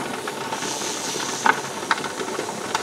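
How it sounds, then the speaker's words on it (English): A pressure canner full of milk vents a loud, steady hiss of escaping steam, with a few faint rattles and clicks over the constant rush. "You see the steam? Man, that is really pouring out of there."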